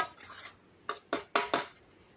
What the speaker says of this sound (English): Then you got to stir it again, get it going again.